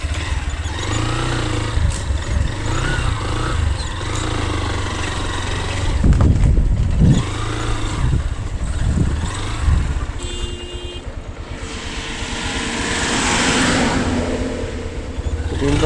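A motorcycle rides along hilly roads, its engine droning steadily up close with shifts in pitch as it accelerates and slows, plus occasional rattles and passing traffic.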